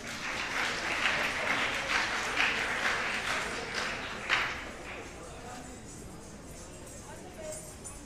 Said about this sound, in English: please welcome them with a round of applause